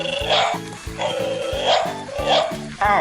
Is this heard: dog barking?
yes